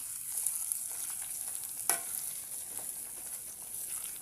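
Washed dal fries in oil, giving a soft, even sizzle with light stirring scrapes and one clear clink of a utensil near the middle, quiet and close with no voices.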